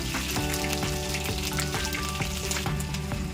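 Whole cumin seeds and a ground spice paste frying in hot oil for an onion chicken masala, giving a dense, steady sizzle with crackling pops throughout, close and loud with no talking.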